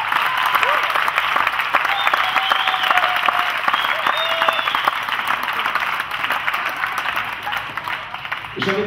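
Loud, sustained applause from a gala audience, dense clapping mixed with some cheering and voices, continuing steadily before tapering at the very end.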